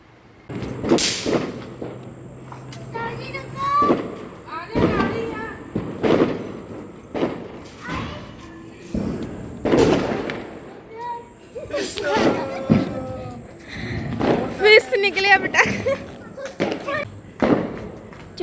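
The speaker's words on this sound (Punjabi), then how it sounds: "ਪਟਾਕੇ ਚਲਾ ਕੇ ਦੀਵਾਲੀ ਮਨਾਈ ਜਾਂਦੀ ਆ" Loud Diwali firecrackers burst repeatedly in a village, sharp bangs spaced irregularly, some crackling, while people talk and shout in between.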